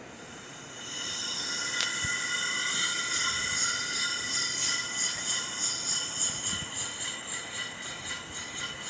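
Small steamboat engine running: a steady high hiss with a metallic whine, swelling in, then settling into a quick rhythmic chuffing pulse, close by and alone.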